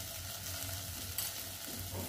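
Wild tamarind-leaf vegetable being stirred in a pan, a soft steady sizzle with faint low scraping strokes, moderately close and alone without talk.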